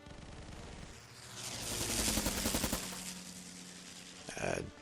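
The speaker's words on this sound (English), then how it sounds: "The first thing I think we're going to do is bombard." Naval bombardment in the strategy game Kaiserpunk, a swelling rumble of rapid gunfire-like bursts that rises, holds and fades, followed by a sharp final impact.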